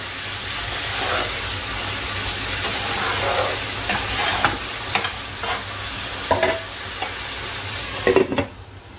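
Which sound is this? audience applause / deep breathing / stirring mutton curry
stirring mutton curry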